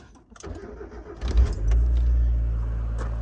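A Mazda MX5 Mk1 Berkeley Special Edition's engine cranks briefly with the key, catches with a loud rising burst, then settles into a steady close-up idle with no voices.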